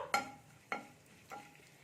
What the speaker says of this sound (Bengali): হাফ চামচের মতো জিরে দিয়ে দিলাম জিরেটাকে আমি একটু ভেজে নেব